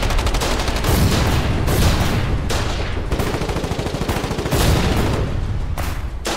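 Gunfire in a 1942 battle at the Alamo: dense, loud, continuous bursts of rapid shots and machine-gun fire, close and unbroken, with no talking.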